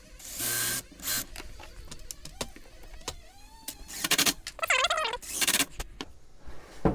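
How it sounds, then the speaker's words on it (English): A power drill drives screws and countersinks into wood ends in short whining bursts, the motor pitch rising and falling as each screw seats, close up, with pauses between runs. "I'm going to screw and countersink and screw some screws into the ends here."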